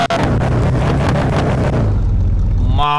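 Loud Mercedes engine revving hard for nearly three seconds, a dense, throaty roar that cuts off abruptly near the end.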